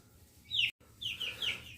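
A young chick, likely a little rooster, making a few high, thin peeping clucks up close, short chirpy calls with a brief gap between them.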